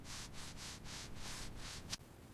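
A unicorn-shaped eraser rubs on paper in a run of soft, quick scrubbing strokes, faint and close, ending with a small tap.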